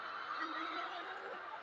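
Hens in a battery cage layer farm in Pakistan make a steady, dense clucking and squawking din, a continuous low roar of many birds with no pauses.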